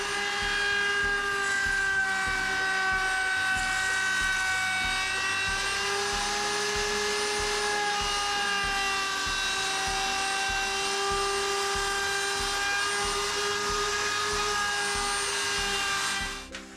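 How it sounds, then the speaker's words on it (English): An electric router fitted with a round-over bit whines continuously as it shapes the edge of a wooden table top, a loud high-pitched steady tone close by that winds down at the end. "the plan now is to just go around the perimeter and put a round over on it"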